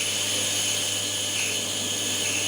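A Tormek wet grinder's wheel spins as a chisel is held against it for sharpening, giving a steady, fairly loud whirring hum with a constant low drone and broad hiss, unbroken throughout with no talk.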